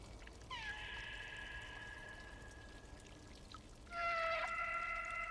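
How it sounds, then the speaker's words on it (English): Cats meow in the video game Stray, two long drawn-out mewing calls separated by a pause, the second louder, over a steady low ambient hum. "Are they meowing for me?"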